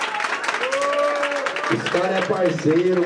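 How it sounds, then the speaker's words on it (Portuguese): Clapping and cheering fill the air for two contestants at a rap battle in Londrina, a steady crowd roar underneath someone speaking over it. "Salva de palmas pros dois aí, família."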